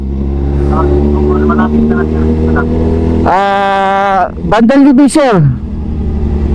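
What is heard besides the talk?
motorcycle engine revving in traffic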